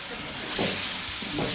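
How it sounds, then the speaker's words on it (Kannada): Oil sizzles steadily while ingredients roast in a pan with mint leaves, a continuous broadband hiss that swells louder partway through, with faint speech and low clatter underneath. "ಬಾಂಡಿಗೆ ಹಾಕ್ಕೊಂಡು ಎಣ್ಣೆ ರೋಸ್ಟ್ ಮಾಡ್ತಾ ಇರೋದಾ?"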